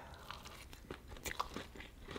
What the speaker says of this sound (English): Ooh, this one looks like it has a lot of crunch.